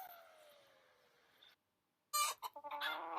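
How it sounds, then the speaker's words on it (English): Hens in a farm hen house cluck and chatter in a close, busy burst, with a softer stretch of fowl sounds before a brief pause. "Some hens came to greet Topsy and Tim."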